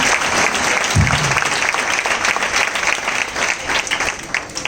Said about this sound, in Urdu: یہ ویسے تالیاں آپ لوگوں نے میرے لیے بجائیں کہ یسوع کے لیے؟